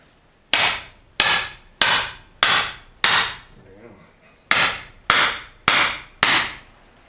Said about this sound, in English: I'm going to hit the hatchet using my copper mallet